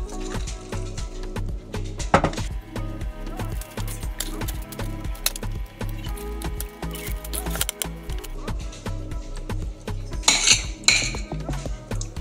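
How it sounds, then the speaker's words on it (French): Spoon scraping and clinking as it scoops beet and white chocolate dough into balls on a baking sheet, with repeated close metallic taps and small knocks throughout, a brighter clatter near the end. "Avec une cuillère, je vais venir faire des boules."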